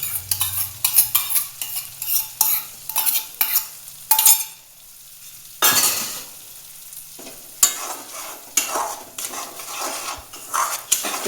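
Spices and ginger paste are stirred together in a sizzling frying pan, with repeated scraping strokes of a spoon over a constant crackle and brief pauses between bursts of stirring.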